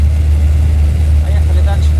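A car drives slowly along a road toward De-Kastri, its engine and tyres a loud, steady low rumble inside the cabin, with a voice talking partway through.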